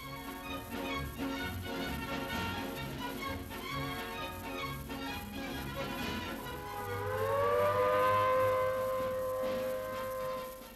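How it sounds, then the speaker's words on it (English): An air raid alarm siren in England slowly rises and holds a steady wailing tone in the second half, sounding over a busy background that fills the whole clip. "The alarm sounds somewhere in England, calling out the ambulance drivers, but only for practice."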